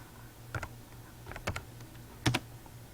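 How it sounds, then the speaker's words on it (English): Computer keyboard keys tapped in three short bursts of a few strokes each, close and crisp over a low steady hum. "I want to type in a teacher's name"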